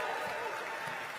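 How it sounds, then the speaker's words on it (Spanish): Audience applause for a performer at a bilingual leadership talk, a dense, steady wash of clapping filling the whole short moment at moderate level. "Give Alina a hand"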